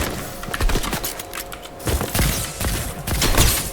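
Gunfire in Fortnite: rapid bursts of sharp shots in quick clusters, loud and close, with brief gaps between volleys.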